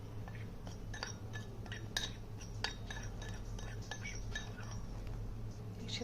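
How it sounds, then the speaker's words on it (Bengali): Cut guava pieces tip into a bowl ahead of mixing with spices, making a faint scatter of light clinks and taps against a low steady background hum. "বাটির ভিতর পেয়ারাগুলোকে ঢেলে দিব"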